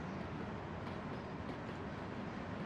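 Train passing a station in the SimRail railway simulator, a faint steady rumble and rolling rail noise held evenly throughout with no voices.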